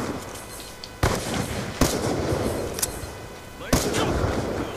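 Gunshots in a video game ring out as four loud, separate cracks spread over a few seconds above a continuous background of game noise.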